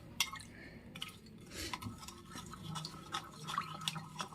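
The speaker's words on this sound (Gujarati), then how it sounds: "ગોળના ગાંઠા ના રહે એવી રીતના આપણે બધું સરસ મજાનું મિક્સ કરવાનું છે." A spoon stirs wheat flour pudla batter with jaggery in a bowl, making soft irregular scrapes and wet dabs, faint and close, with no talk.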